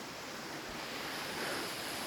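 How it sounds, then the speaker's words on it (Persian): The Pirsaqa waterfall, set among surrounding mountains, produces a steady, dense roar of rushing water, broad and constant with no pauses and no voices. "خیلی زیباست آبشار پیرسقا، فوق العاده است"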